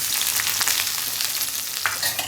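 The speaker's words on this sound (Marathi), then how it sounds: "तेल गरम झालं आहे आपण त्यात कांदा टाकू" Chopped onion frying in hot oil in a kadhai, with a steady close sizzle and crackle and a faint scrape of stirring, all without any voice.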